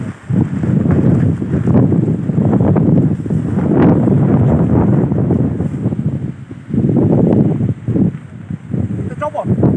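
Strong wind at Cibodas National Park buffets the microphone with loud, continuous roaring gusts that rise and fall, while people talk nearby.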